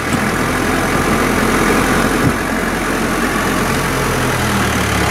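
Vehicle engine pulls steadily in first gear across wet ground in the Philippines, a constant loud drone throughout with no speech.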